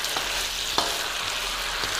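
Chili crab pieces stir-frying in a wok with fish sauce produce a brief, steady, close sizzle, with one sharp clack of stirring partway through.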